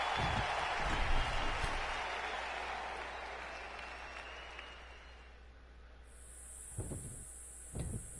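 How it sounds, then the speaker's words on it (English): Cicadas buzzing in the WWE 2K19 video game: a loud, steady hissing drone fills the first several seconds, then fades. Near the end a high thin tone and a couple of soft thumps follow. "It's the sound of the cicada emerging after years of slumber from their underground existence."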